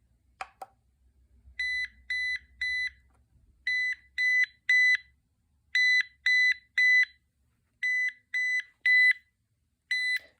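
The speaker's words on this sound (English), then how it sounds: "this is what the paging does" A General Electric analog cordless phone from the 2000s sounds its paging alert: a rapid triple-beep chirp repeated in four groups of three, clear and electronic against silence.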